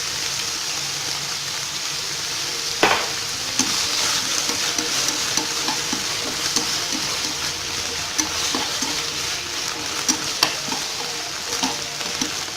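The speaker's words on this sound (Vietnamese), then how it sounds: "Chúng ta chỉ cần xào rau cải vài phút là chín rồi nha các bạn." Mustard greens being stir-fried in a pan, a steady sizzle with repeated scraping and tossing strokes of the spatula, close and continuous with no talking.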